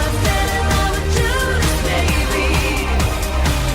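A loud, dense stretch of an electro-pop song, rebuilt from its studio multitracks, pounds with a driving four-on-the-floor beat, heavy bass and synth layers for a few seconds.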